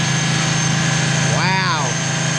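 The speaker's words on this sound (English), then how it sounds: "Probably because it's so cold and we're revving it at 4K." A cold car engine held at about 4000 rpm gives a loud, steady, close-up drone with a constant buzzing hum. A brief vocal exclamation rises over it midway.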